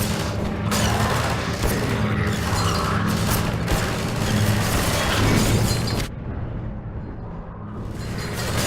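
A grenade blast in the video game Half-Life 2, a loud, dense crashing roar with rumbling debris that fills the first six seconds before dropping off sharply into a lower, quieter rumble.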